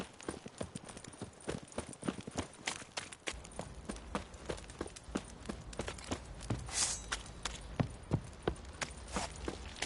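Steady clip-clop of horse hooves at a walking pace in the video game The Witcher 3, close and continuous, with faint background ambience and no talking.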